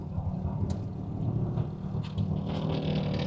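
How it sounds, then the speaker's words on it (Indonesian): Hyundai Creta Prime 2022 MPV accelerating on the road, a dense low engine and road rumble building under light wind buffeting, heard from inside the cabin with no voices. "Ini kalau gue gas"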